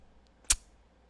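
A single sharp, dry snap of a BB gun firing, brief and fairly close, set against near silence.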